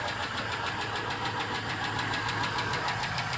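A Chevy engine runs steadily close by, a rough rhythmic idle with a faint ticking knock, heard alone without talk.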